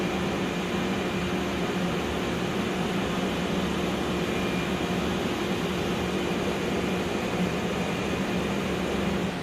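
A Thermwood CNC cut center runs as its cutting process starts, giving a loud, steady broadband machine roar with a constant hum that holds unchanged throughout, with no talk.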